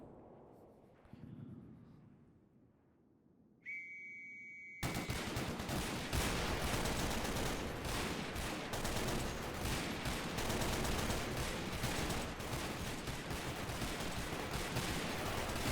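A WWII battle in the video game Totaler Krieg erupts into dense, continuous gunfire after a quiet start, with sustained machine-gun bursts and rifle shots crackling loudly and steadily over distant battle noise.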